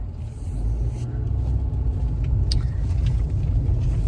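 A car engine gives a steady, fairly loud low rumble that holds evenly throughout, heard close as if from inside or beside the vehicle, with no speech.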